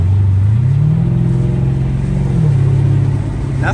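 A Mercedes CL550 V8 revs up close and loud, its pitch climbing, holding, then dropping and settling into a lower steady drone.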